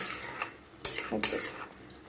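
A metal spoon stirs fried potatoes through a paste of ginger, garlic, onion, cumin, coriander and green chili in a pan, scraping and clinking in two sharp bursts amid quieter stirring, close and moderately loud.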